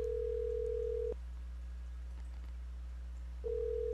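Steady telephone dial tone from the video game OneShot, cutting off after about a second and returning near the end of the clip, with no talk over it.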